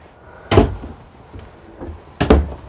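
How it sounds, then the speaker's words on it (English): Raised panel cabinet doors in a 2012 Eclipse Milan 24RBS RV are opened and shut, two sharp wooden knocks about two seconds apart, close and loud, with soft handling noise between them. "nice raised panel cabinet doors"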